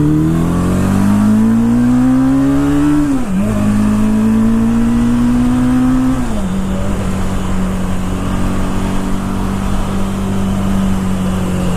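A 1980 Suzuki GS750 motorcycle engine runs loud and close, its drone slowly rising in pitch twice and dipping each time, then settling into a steady low idle.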